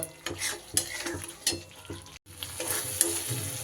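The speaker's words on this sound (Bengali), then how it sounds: "পুরোপুরি মশলাটা কিন্তু আমার কষানো হয়ে গেছে মশলার কালারও চেঞ্জ হয়ে গেছে" Spice masala for egg curry being sautéed in a pan, loud close sizzling with repeated sharp stirring scrapes and utensil knocks against the pan, with a brief break midway.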